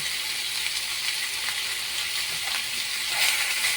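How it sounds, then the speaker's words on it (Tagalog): Fatty meat fries in its own rendered fat in a pan, giving a steady, loud, close sizzle with light crackling throughout. "At iluto po siya ng medyo tostang-tosta ng konti para lumabas po yung sarili ng mantika"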